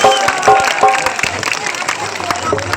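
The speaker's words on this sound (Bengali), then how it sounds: "এদিক থেকে জোর হাততালি" Audience applause at a Ganesh puja stage show, with scattered, uneven claps rising and fading under a presenter's voice.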